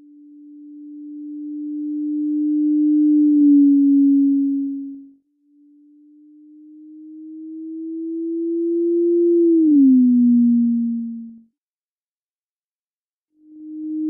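A looped pure sine tone in the FMOD game audio engine with exaggerated Doppler shift: a steady low hum swells louder, then slides down in pitch as it passes, repeating twice with a gap, then returning.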